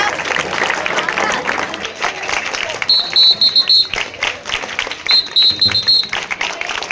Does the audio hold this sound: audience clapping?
yes